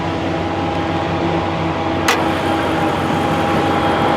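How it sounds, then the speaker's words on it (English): A Hemi V8 engine idles steadily with a low, even rumble and a constant hum, one brief sharp click partway through. "let's take a look at that Hemi. She sounds really good."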